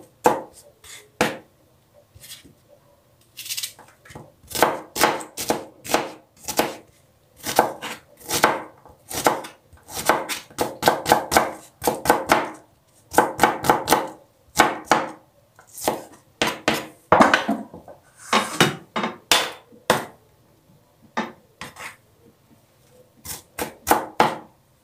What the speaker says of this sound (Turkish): İki tane soğan doğrayacağım ben.